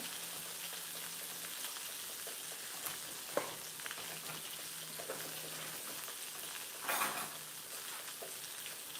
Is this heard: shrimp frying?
yes